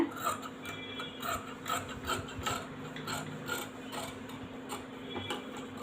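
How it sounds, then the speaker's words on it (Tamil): Scissors snip through embroidered blouse cloth, cutting along a quarter-inch gap inside the stitching; a steady close rasping, crunching texture runs throughout with small irregular pulses and no talking. "துணியை வந்து அப்படியே கட் பண்ணி எடுத்துருங்க"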